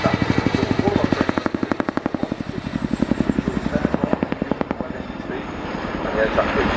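Military helicopter repositioning at the Royal International Air Tattoo, its rotor thudding in a steady rapid pulse throughout, loud and fairly close, with a public address voice talking over it.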